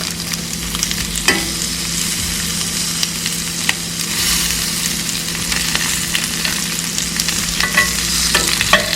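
Chicken laid in avocado oil in a pan fries with a loud, continuous close sizzle and crackle, with occasional sharper pops and a faint low hum beneath.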